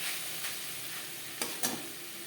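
Mixed vegetables with a small chopped tomato cooking in a pan, giving a steady, even sizzle with a couple of brief utensil taps near the end.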